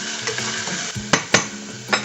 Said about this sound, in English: just lightly sauteed